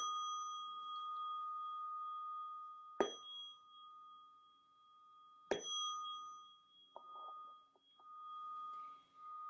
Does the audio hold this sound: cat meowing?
no